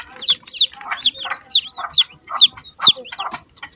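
Young duck and chicken chicks calling nearby, a quick, evenly spaced series of high peeps and clucks repeating about twice per second.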